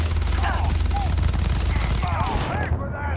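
Rapid bursts of automatic gunfire from modded weapons in the video game Starfield, loud and sustained, with heavy low booms and flickering shot transients throughout, fading slightly near the end.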